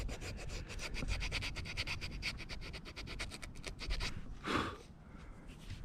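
A boot toe protector is sanded by hand in rapid rhythmic back-and-forth scratchy strokes, close and steady, with a brief heavier scrape near the end.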